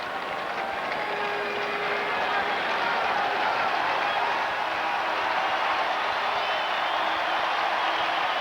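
A baseball stadium crowd on its feet roaring at a full count in the 1991 ALCS Game 5, Twins at Blue Jays, heard as a loud continuous wash of cheering that holds steady throughout.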